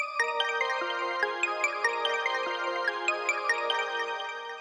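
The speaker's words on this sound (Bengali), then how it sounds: "ফোনটা হাতে নিয়ে দেখলাম ফোন আসছে, অথচ নাম্বার দেখাচ্ছে না।" A phone ringtone plays late at night during heavy rain, a bright melodic chime of repeating tonal notes, moderately quiet and alone, with no speech.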